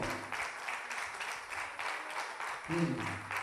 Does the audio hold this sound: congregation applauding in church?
yes